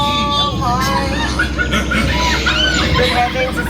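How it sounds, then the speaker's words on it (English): Animatronic turkeys on the Disneyland Jungle Cruise ride give loud, close gobbling and clucking calls in overlapping bursts, over steady ride background noise. "And those are interesting looking turkeys."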